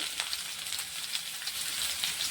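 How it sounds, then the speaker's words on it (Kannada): Chopped large onions fry in a little oil for an onion palya, giving a steady, close bright sizzle with soft crackles throughout and no voices. "ಆ ಈರುಳ್ಳಿನ ಫ್ರೈ ಮಾಡ್ಕೊಳ್ಳೋಣ ಒಂದು ಸ್ವಲ್ಪ ಎಣ್ಣೆಗೆ ಒಂದು ಸ್ವಲ್ಪ ಫ್ರೈ ಮಾಡಿ"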